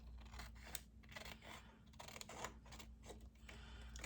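Scissors snip through a thin acetate overlay printed with the alphabet, giving a run of close, crisp cuts and soft scraping strokes over a low steady background hum, with no one talking.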